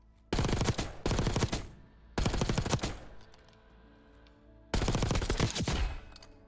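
Automatic gunfire from a Black Ops 6 weapon with a ported muzzle, loud sustained bursts of rapid shots, three separate strings with short pauses between them, no talking.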